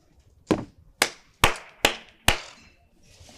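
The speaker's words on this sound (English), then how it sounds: "Clap for yourself." Five sharp hand claps ring out close by in a quiet indoor scene from a drama, evenly spaced at a slow, deliberate pace, each one crisp and loud with a short decay and no talking.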